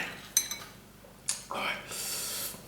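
A spoon clinks against a bowl of spicy red taro soup, a few sharp metallic taps close by with quieter scraping between them.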